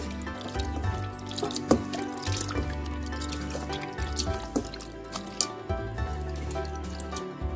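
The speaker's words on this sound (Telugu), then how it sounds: "కాస్తంత పెరుగు కూడా వేసి చక్కగా వీటిల్లో ఈ ముక్కలన్నిటినీ కడగాలి" Snail meat pieces being washed by hand in water with curd, wet squelching and splashing with drips and trickles, close and continuous with irregular louder splashes.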